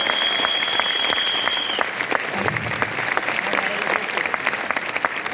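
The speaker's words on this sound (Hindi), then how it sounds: "तालियां बजा दो यार" A seminar audience in Delhi breaks into sustained applause, dense and steady throughout, with a brief tone and some crowd noise mixed in.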